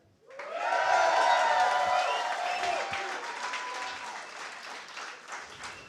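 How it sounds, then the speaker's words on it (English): Studio audience applause with a few cheers and whoops at a sports talk show event in a bar, a dense burst of clapping that swells quickly and then tapers off while remaining fairly loud. "another round of applause for the Packers' win yesterday over the Bears, 31-23"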